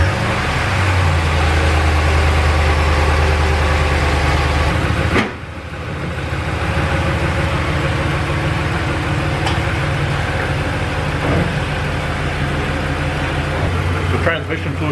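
A RAM 1500 pickup with the 5.7L HEMI V8 idles steadily at close range, a low continuous engine drone that dips briefly midway then resumes, with talking over it.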